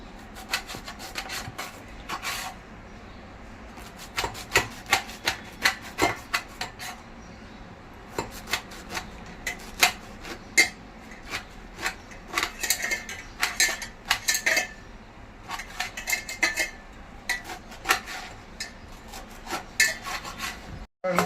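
Colocasia cut lengthwise with a knife, a long series of quick rasping, scraping strokes against a board, close and fairly loud, arriving in irregular bursts.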